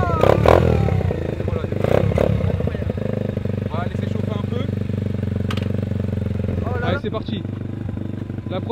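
A motocross dirt bike engine idles steadily with a strong low drone, clattering and occasional revs, while people talk over it during a first start-up.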